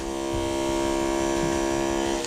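An Andis hair clipper runs at its highest speed setting, giving a loud steady electric buzz that holds close and even, then cuts off right at the end.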